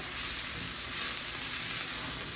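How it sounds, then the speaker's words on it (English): Steady, close sizzling of onion, garlic and radicchio frying in a hot pan, a continuous bright crackle with no talking. "so as you can see, that's nicely pan frying"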